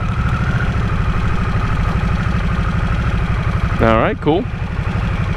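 2022 Harley-Davidson Nightster motorcycle engine idling with a steady, loping low throb close by; someone talks briefly over it.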